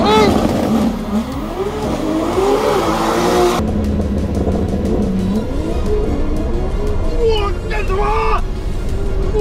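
A heavily modified car revs ahead of a drag race against a Tesla electric car, its engine note climbing and falling in loud sweeps, with people talking over it and a sharp change in the surrounding noise partway through.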